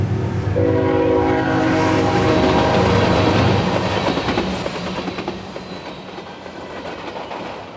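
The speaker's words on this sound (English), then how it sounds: "There's the train right there, look at that." Train rolling past near an old rail yard that is now a historical museum, with a loud steady rumble and a sustained horn early on, then a wheel clatter that gradually fades as it moves away.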